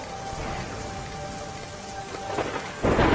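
Heavy, continuous rain with thunder in Dwarka, Gujarat: a broad, steady roar of rainfall that swells sharply louder toward the end.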